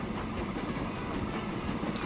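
A train runs steadily in the Transport Fever 2 video game, a continuous low rumble with faint rail clatter that stays even throughout, with a brief hiss near the end.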